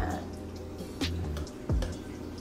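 Milk poured into a cup makes a soft, faint liquid trickle with a few small drips and splashes, heard up close.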